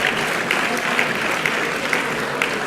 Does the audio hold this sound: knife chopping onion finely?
no